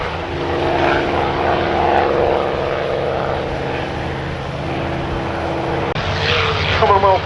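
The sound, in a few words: North American P-51 Mustang aircraft engine at airshow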